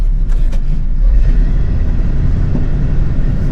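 A 1972 Chevrolet K-10 Custom Deluxe shortbed 4x4 pickup out on a drive, its engine a steady, loud low rumble with road and cabin noise throughout and no talk.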